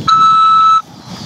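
A phone system's tone on a prison collect-call line, a single steady electronic beep lasting under a second, loud and clean, then cutting off into line hiss.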